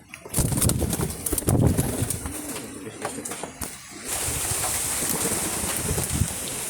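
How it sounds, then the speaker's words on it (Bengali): Many pigeons coo and flutter close by in a continuous, busy chorus, with a steady hiss of background noise running underneath. "অনেক কবুতর আছে"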